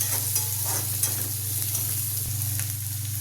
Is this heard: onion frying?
yes